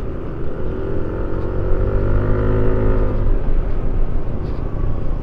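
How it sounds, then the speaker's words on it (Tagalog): Motorcycle engine pulling hard during a road ride near Don Salvador Benedicto and Canlaon in Negros Occidental, a continuous droning roar that rises in pitch as it accelerates, with wind rush and no talk. "Grabe pick up ng motor na to."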